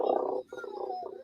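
A battery-powered motion toy baby gives off a warbling, croaky electronic cry in two uneven bursts, close and moderately loud, with no talking.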